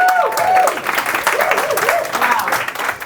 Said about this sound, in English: So can we have a round of applause, please, for Jessica from ComplyAdvantage?